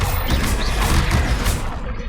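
Confringo blasting spell in Hogwarts Legacy, a loud, dense crackling burst of fiery impacts and smashing noise that holds steady throughout, with no speech over it.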